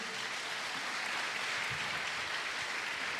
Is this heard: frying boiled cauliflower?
no